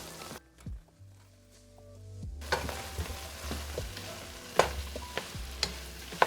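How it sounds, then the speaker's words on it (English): Chopped broccoli sautéing in a pan for a keto broccoli cheese soup, a steady low sizzle with scattered sharp clicks and scrapes of stirring, close and alone after a brief quieter gap at the start. "we're just going to kind of saute this around for a minute or two"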